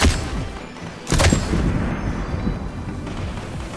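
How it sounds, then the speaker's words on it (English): Gunfire in the video game Fortnite, a loud crack followed by rumbling booms and scattered shots echoing over a few seconds, fairly close and alone. "What are you shooting at, bro?"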